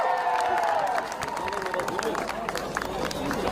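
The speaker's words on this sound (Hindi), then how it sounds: "जोरदार तालियां." An audience at a Border 2 film event at the Tanot Mata temple in Jaisalmer breaks into dense, sustained clapping that goes on throughout, with crowd noise underneath.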